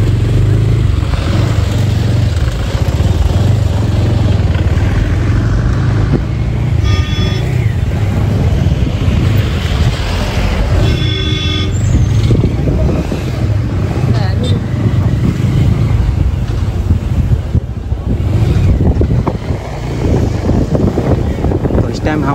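Busy hill-station road traffic in Bhimtal, Uttarakhand, with tempo traveller vans and other vehicles passing close by, a continuous loud engine and road rumble with wind buffeting the microphone and people talking over it.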